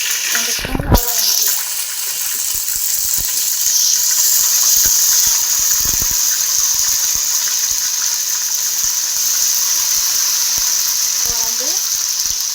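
Ginger garlic paste sizzling as it fries in hot oil for biryani, a steady loud hiss that runs throughout, with a clatter near the start and a few soft knocks.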